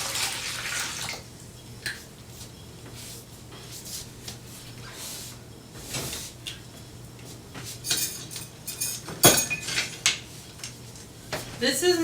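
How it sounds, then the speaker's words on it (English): Water trickles and splashes softly onto yeast in a bowl for focaccia dough, with light clinks of utensils and a sharper clatter near the end. "And then I put my water on top of it"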